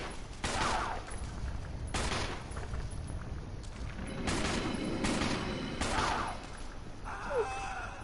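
Gunfire in the Resident Evil video game, with several loud shots fired in spaced bursts over a mechanical game background, and no talking.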